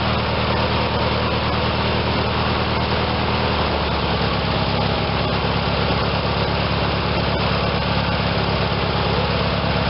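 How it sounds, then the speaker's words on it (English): A Briggs and Stratton twin-cylinder tractor engine idles with a steady, low, even throb. Partway through, the idle speed drops slightly and the engine keeps running smoothly and loudly throughout. "I'm going to lower that idle just a little."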